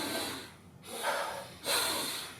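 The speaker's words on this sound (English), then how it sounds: "take that air in" Breathing exercise: two sharp inhales drawn in through the nose, close and fairly quiet, with a brief pause between them and no talking.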